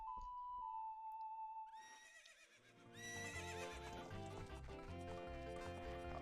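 Epona the horse whinnies in the video game Zelda: Ocarina of Time, a single loud rising-and-falling neigh with game music and clip-clop hoofbeats following, no talking.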